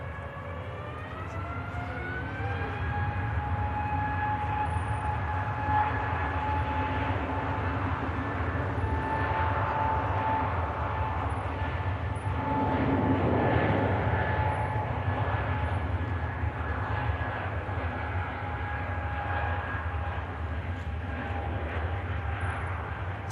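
A Scandinavian Airlines (SAS) airliner at Manchester Airport, a loud sustained jet roar with rising whining engine tones that level off and hold steady for a long stretch, no talk.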